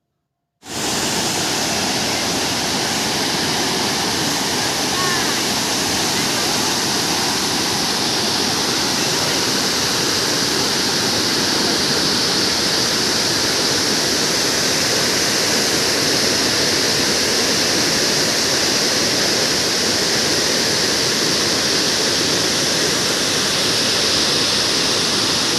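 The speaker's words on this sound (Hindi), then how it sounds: "जगह जगह पर छोटे छोटे झरने, बड़े बड़े पत्थरों से सरकता स्वच्छ व शीतल जल" Waterfall with clear, cool water sliding over big rocks and small cascades, a loud, steady, unbroken rushing roar heard close up and alone for the whole stretch.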